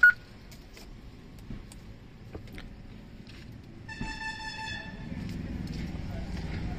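A 2013 Mahindra XUV500 W6 diesel's voice command system plays its prompt, then a clear steady electronic beep tone lasting about a second, heard close inside the cabin over a low background hum.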